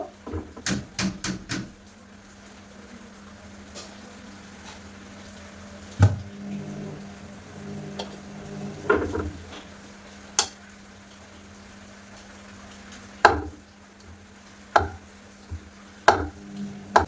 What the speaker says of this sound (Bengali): কলাগুলো ছোট ছোট করে পিস পিস করে কেটে নেব।